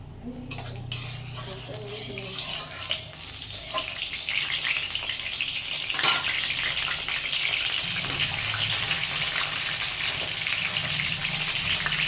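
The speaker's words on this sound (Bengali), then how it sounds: "পটলগুলো ভেজে নেব। পটলগুলো কড়া তেলটা গরম" Pointed gourd (potol) pieces frying in hot oil in a kitchen pan give a steady sizzling hiss, with utensil and pan clinks over it and no voice.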